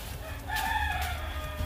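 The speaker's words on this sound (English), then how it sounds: "And the chickens are shredding them" A chicken scratching in a backyard compost pile of mostly whole leaves lets out a brief, faint crow-like call against low background rumble, with a street nearby.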